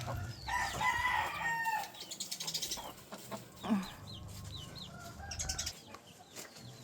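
A chicken clucks and squawks repeatedly nearby, with other birds chirping in the background and a brief rustle.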